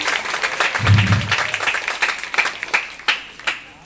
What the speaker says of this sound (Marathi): आपण जोरदार टाळ्या वाजवल्या पाहिजे